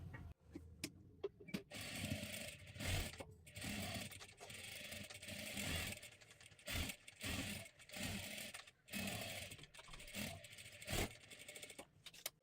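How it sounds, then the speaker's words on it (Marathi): A sewing machine runs in uneven surges and pauses while double-stitching lace on a blouse, heard fairly close over a noisy background. "आता इथे आपल्याला पुन्हा एकदा डबल शिलाई मारून घ्यायची आहे म्हणजे ती लेस पूर्ण आपली पॅक होऊन जाणार आहे"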